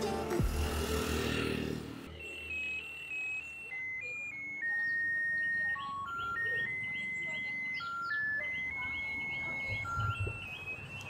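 A bread van in Sri Lanka plays its jingle, a bright electronic melody of sustained tones stepping up and down, steady and moderately loud, after a burst of louder noise at the start.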